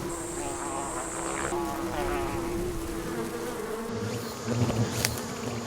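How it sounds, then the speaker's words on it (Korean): Dense, close buzzing of many Asian giant hornets swarming together into a net, a constant droning hum with shifting pitches and occasional louder passes. "순식간에 그물망을 가득 채운 장수말벌들."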